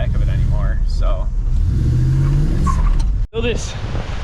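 A pickup truck drives along with a steady mid-range engine rumble and some revving, heard close from inside the cab while a person talks over it; the sound cuts out briefly near the end before resuming.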